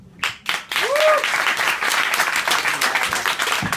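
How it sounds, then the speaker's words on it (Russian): Audience applause at a Ukrainian literary slam poetry event, a dense burst of clapping that starts abruptly and holds steady and loud throughout, with a brief tonal squeak near the start. "Аплодисменты!"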